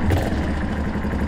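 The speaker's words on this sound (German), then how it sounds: "Ein Generator. Beste. Oh, oh, ein V8-Motor." A generator engine in the horror video game Don't Knock Twice runs with a steady, close, low mechanical rumble that holds constant through the short stretch.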